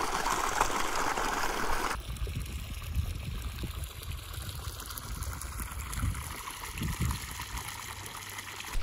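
Water draining out of a paddy field, a soft steady trickle and gurgle running continuously at low level, close by, with faint background noise and no voices.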